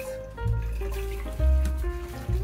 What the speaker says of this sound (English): just get a colander and you can pour out your water